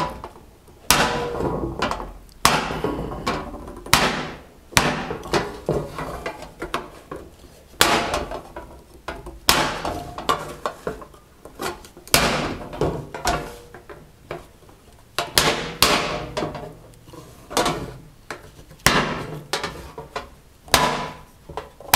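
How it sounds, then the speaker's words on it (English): Chasing tool struck with a hammer on solid copper sheet during folk art repoussé work: sharp, close metallic taps in irregular bursts and steady runs, some blows louder than others, with no talking. "it may sound like I'm really whacking this here"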